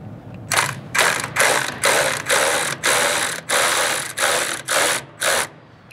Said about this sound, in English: I've got a semi-deep with a swivel and my long 3/8 ratchet. So we'll bust that loose there.